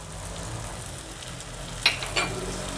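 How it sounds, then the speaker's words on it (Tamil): Tomatoes sauté with sambar, coriander, chilli and turmeric powders in a pan for pakoda curry, making a constant low frying sizzle, with two brief stirring scrapes near the end. "இது சேர்த்து நல்லா வதக்கி எடுத்துப்போம்"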